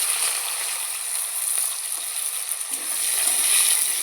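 Potatoes and whole cumin seeds frying in hot oil, a steady close hiss of sizzling that swells slightly toward the end, with no voices.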